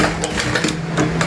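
A repaired Juki computerized high-speed sewing machine runs steadily and close by, a smooth whirring hum with a light regular ticking of the mechanism.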